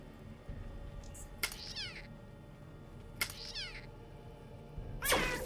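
In the video game Underrail, a cat meows three times with rising, wavering cries spaced a couple of seconds apart, the last one loudest, over a quiet game background.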